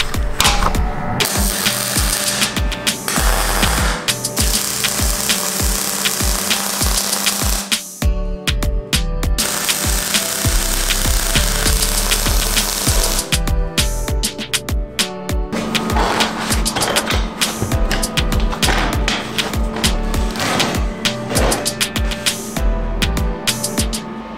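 A metal frame is welded at its corners, giving loud, sustained crackling hiss in long bursts separated by brief pauses, with no talking.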